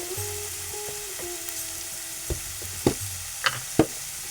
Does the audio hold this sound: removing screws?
no